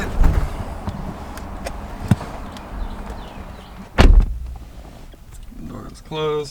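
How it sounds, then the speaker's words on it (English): A single solid thump of a car door shutting, with a faint earlier knock and quiet rustling around it, followed by a short rising electronic beep sequence. "Door is closed."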